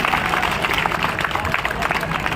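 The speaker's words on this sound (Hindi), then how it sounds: "जोरदार ताली होनी चाहिए।" Loud, steady applause from a large audience at an SBI outreach event in Jodhpur, Rajasthan fills the space, dense continuous clapping with no pause.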